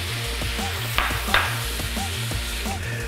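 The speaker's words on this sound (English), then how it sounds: "I gotta add some onions into this, okay? Because I want my onions cooked up too" Chopped onions frying in a pan with taco meat, giving a steady close sizzle with a few brief scraping bursts, beneath a looping bass-heavy music bed.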